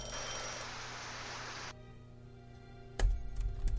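A telephone in a video game rings in a steady electronic trill for nearly two seconds, then stops, leaving quiet background tones before a couple of sharp knocks near the end.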